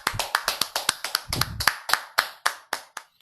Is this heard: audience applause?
yes